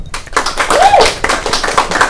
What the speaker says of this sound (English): a round of applause for Each of the nominated.